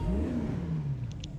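A car engine revving in GTA, its note climbing and then settling at close range, loud and alone, with a couple of short high chirps near the end.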